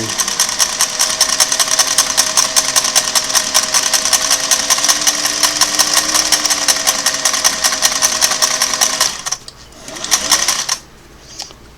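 A restored Singer Model 404 sewing machine stitches fabric in a fast, even mechanical clatter that runs for about nine seconds, then stops and gives way to a few soft handling noises.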